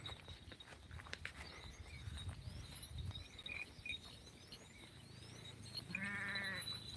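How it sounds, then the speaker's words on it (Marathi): Goats bleating in an open outdoor setting alongside a travelling sheep flock, one clear bleat near the end, with faint calls and chirping insects in the background. "बकरी ही चालू आहे बघा इथं अशी"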